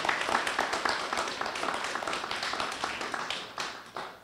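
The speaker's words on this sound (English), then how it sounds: "Can I hear a little round of applause for those folks?" A breakfast meeting audience gives a round of applause for its sponsoring banks and credit union. The dense clapping is moderately loud and continuous throughout, with no speech over it.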